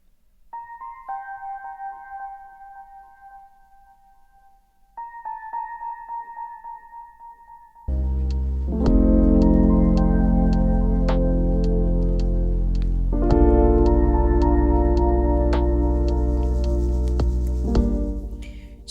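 A synthesized crackling noise texture built as a transition effect for a lo-fi beat, with a dim bell-like motif giving way to a loud, dense, sustained swell of crackle and tone that fades at the end.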